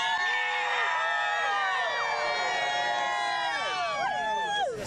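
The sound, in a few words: crowd cheering before solar eclipse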